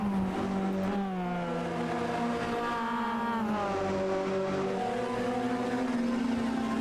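Mazda MX-5 race cars at Lime Rock in a sim racing game, engines droning steadily with pitch rising and falling through the S-curves toward turn five, several cars running nose to tail and loud throughout.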